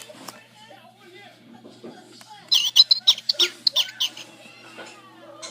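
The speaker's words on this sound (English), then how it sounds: "bird chirping." Electronic bird chirping from a Baby Einstein toy sound book: a quick series of bright, tinny tweets in the middle of the clip, preceded by quiet speech.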